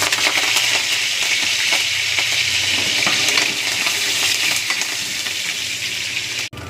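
Dried red chillies, garlic, seasoning seeds and curry leaves sizzle and crackle steadily in hot oil for an aloo fry, a loud continuous frying hiss with scattered pops, no talking.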